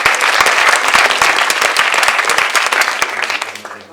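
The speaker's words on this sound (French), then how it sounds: "Donc Ludovic, on peut l'applaudir" An audience at a conference on livestock farming and antispeciesism applauds Ludovic with loud, dense clapping that holds steady for a few seconds and then starts to thin and fade.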